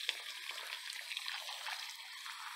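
City tap water washing off a tomato plant, a soft steady spray and trickle over leaves, fairly faint and continuous.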